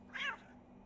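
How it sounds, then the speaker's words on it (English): A single short cat meow from a video game, clear and fairly close over a faint steady hum, with no speech. "Oh look, is that the cat?"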